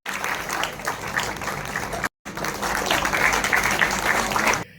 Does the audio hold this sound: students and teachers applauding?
yes